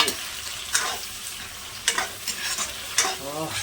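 Tomatoes frying in hot oil in a pan, a steady close sizzle broken by several sharp scraping stirs of a utensil, with no talking.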